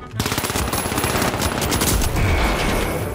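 Rapid machine-gun fire in a video game, a dense rattling burst of shots hitting close and loud, continuing for a few seconds.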